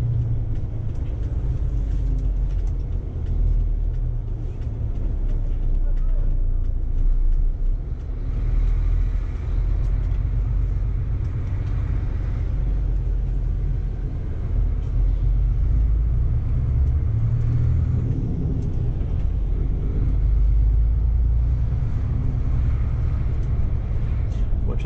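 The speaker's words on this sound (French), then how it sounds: "j'écoute le son du moteur en même temps" A Bova Futura FHD coach's engine drones steadily while driving, a continuous low rumble with road noise that swells slightly at times, fairly loud and close throughout.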